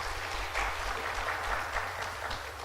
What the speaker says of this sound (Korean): 우리 하나님께 영광의 감사의 박수 올리도록 하겠습니다.